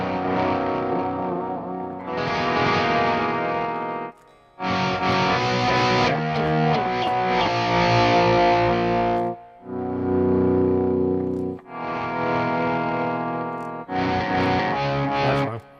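Distorted electric guitar chords played in bursts through a Line 6 Helix Rack Cathedral delay patch, washed in echoing delay and reverb, with short gaps between phrases and no talking.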